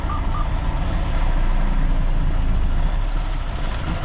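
A dry van semi truck idling with a loud, low engine rumble, and a pair of brief reversing beeps sounding right at the start before the engine drone carries on alone.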